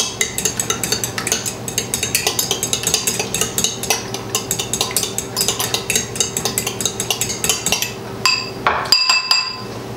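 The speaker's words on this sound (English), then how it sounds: "You could use a whisk as well, but I usually just use a fork." A fork whisks eggs in a bowl, producing a fast, steady series of close, bright clinks and taps against the bowl for several seconds, ending with a few louder knocks.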